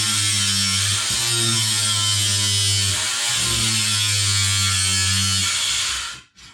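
A Ryobi R18AG-0 cordless angle grinder cuts with a loud, steady high-pitched whine, dipping briefly twice under load before spinning down and stopping near the end.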